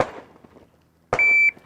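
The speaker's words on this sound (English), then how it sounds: "it gives us an electronic beep" Electronic beep of a pistol shot timer on a shooting range, a single steady tone sounding clearly after a short quiet gap, preceded by a brief sharp burst.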